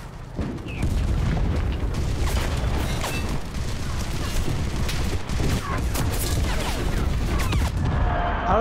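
Heavy machine gun fire in the WWII shooter Enlisted: a loud, steady fusillade of bursts over the whole stretch, mixed with deep booms and battlefield noise.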